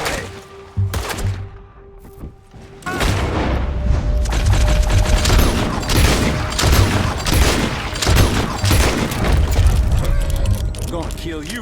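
Gunfire in the Red Dead Redemption 2 video game, a dense volley of loud shots and booms running nearly continuously, with voices shouting over it.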